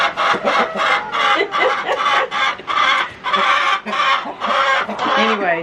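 Backyard farmyard chickens cluck and chatter in a busy, continuous chorus of overlapping calls, close and loud, with short rhythmic bursts and no talking over them.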